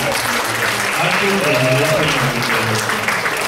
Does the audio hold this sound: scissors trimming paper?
no